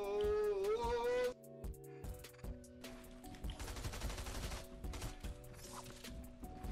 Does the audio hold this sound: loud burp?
no